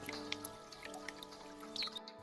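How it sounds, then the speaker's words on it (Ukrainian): Water drips from melting icicles on rooftops in spring, faint scattered plinks and droplet taps spread irregularly over a soft steady background. "З дахів крапають кришталеві крапельки води."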